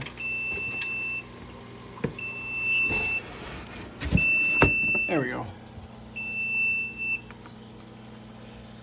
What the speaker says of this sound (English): Oh, the alarm's going off.